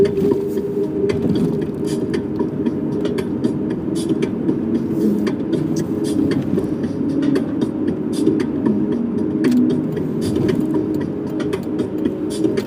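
Steady road rumble fills the cabin of a car driving toward Boulder, a constant low drone with small clicks and rattles and no talking.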